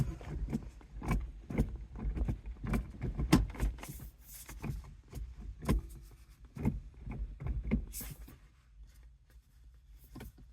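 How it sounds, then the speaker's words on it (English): A 2011-2014 Ford Mustang's manual gear lever is worked through the gears after a broken shift knob is replaced, giving a run of close, quiet clicks and clunks with small mechanical knocks between them. "I'll shift the gears real quick."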